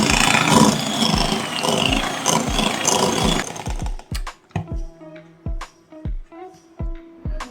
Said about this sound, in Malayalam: ക്രീം ചീസ് എടുത്തിട്ടുണ്ട്. അത് നന്നായി ബീറ്റ് ചെയ്തെടുക്കാം.